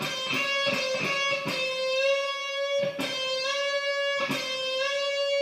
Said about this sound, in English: Whenever you're doing a half-step bend